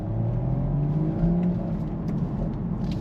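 Steady engine drone of a 2025 BMW Z4 M40i roadster with a 6-speed manual, driven top-down on throttle, a low hum with a rising pitch sweep as revs climb, loud and continuous with no talking.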